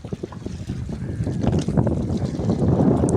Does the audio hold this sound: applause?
no